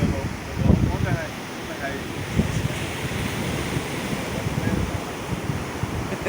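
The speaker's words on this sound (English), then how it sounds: "we're down at Ballycastle Beach and the tide is coming in" Waves of an incoming tide wash continuously onto Ballycastle Beach, a steady broad surf roar with gusts of wind buffeting the microphone throughout.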